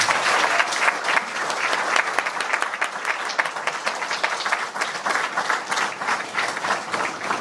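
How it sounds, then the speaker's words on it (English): Sustained audience applause at a brain health symposium awards ceremony, a dense steady wash of many hands clapping that holds at an even, fairly loud level throughout. "please give them all a round of applause"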